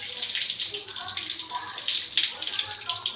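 A tap runs steadily as a toothbrush is rinsed under it, a close, even splash of water that fills the whole moment.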